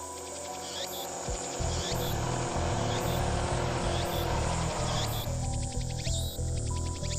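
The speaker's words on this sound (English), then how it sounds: "I can hear the sound of cicadas from somewhere." Cicadas in a Steins;Gate scene drone as a steady, dense high buzz with pulsing trills, fairly loud and continuous over a low rumble of background noise.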